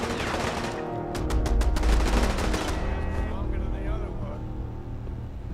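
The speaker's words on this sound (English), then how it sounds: "That is a war zone in there. I hear turrets. I hear lasers." Fallout 4 combat with turrets and laser weapons: a loud rapid burst of automatic fire and zapping shots, then fading rumble and whirring, with a voice talking over it.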